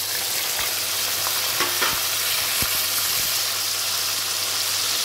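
Green chilies, onion pieces, tomato chunks and cashews fry together in a pan with a loud, constant hiss. A few faint clicks of stirring come through, and nobody speaks.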